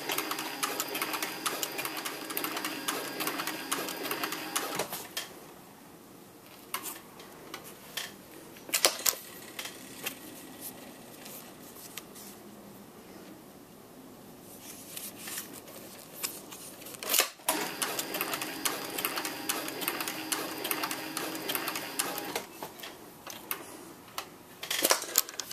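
Sewing machine stitching a leather belt-slip cartridge holder, close rapid mechanical chatter in three runs separated by quieter pauses with handling clicks.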